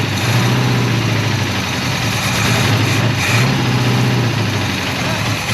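A 1984 Chevrolet Monte Carlo race car's engine runs with the throttle held open, a loud, steady rumbling drone with a slight dip partway through.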